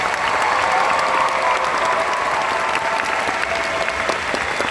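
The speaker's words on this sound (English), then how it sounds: "round of applause for this incredible Dallas orchestra" A large concert audience applauds an orchestra after a Stardew Valley symphony performance, a dense wash of clapping that holds at a loud, even level throughout.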